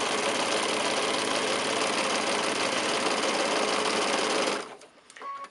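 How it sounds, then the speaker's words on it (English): Sewing machine with a 1/4-inch foot chain piecing cut quilt patches for a beginner four-patch quilt, a close, fast, steady mechanical whirr that runs continuously then stops, followed by a few faint clicks. "I'm just going to chain piece them."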